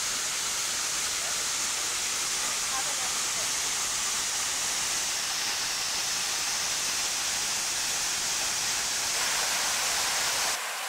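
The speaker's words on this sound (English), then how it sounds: "we're at the top of the first waterfall" Olola Stream Falls, the first waterfall on the Ka'au Crater hike in Hawaii, pours as a continuous hissing rush of water, steady and fairly loud, cutting off abruptly at the end.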